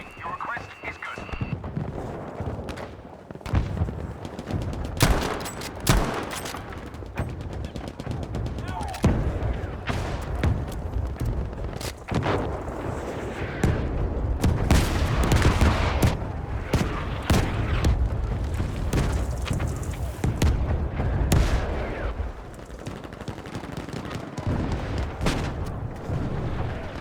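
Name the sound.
artillery barrage in the video game Battlefield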